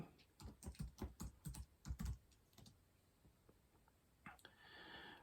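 Fast typing on a computer keyboard, a close burst of clacking keys for about two seconds, then a few scattered taps and a soft hiss at the end.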